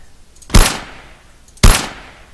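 Two sharp gunshots fired in a first-person shooter video game, about a second apart, loud and close with quick decaying tails, no talk over them.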